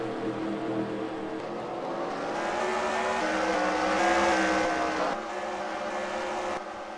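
Race cars in a sim racing game roll off together on the pace lap at Heidelberg, a steady layered engine drone that swells slightly toward the middle and then eases, with no talk.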